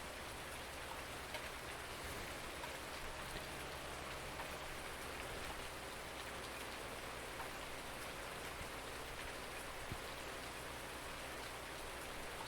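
Steady rain in the video game Farming Simulator 19 falling across a surface, a dense, even hiss of droplets with no pauses, continuous throughout and fairly close.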